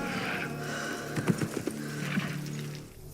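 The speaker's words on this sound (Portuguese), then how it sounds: "Olha o barulho do cavalo." Horse hooves clip-clop in a cluster of hoofbeats during a film scene, with a horse audible over music or ambient sound, moderately loud, with no talk.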